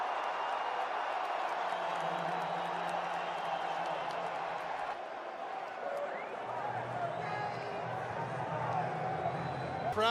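Sustained roar of an NFL stadium crowd with Minnesota Vikings fans at a 2022 Saints versus Vikings game, a dense, continuous wall of noise throughout, with commentators talking over it.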